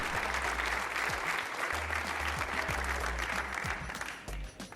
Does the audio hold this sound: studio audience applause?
yes